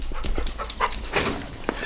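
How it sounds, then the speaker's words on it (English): A dog pants hard after running around, with quick breathy huffs repeating up close over a brief stretch. "This dog is a running fool."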